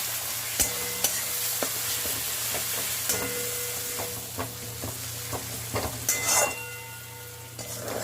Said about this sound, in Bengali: সমস্ত মশলা এবার কষে নেব।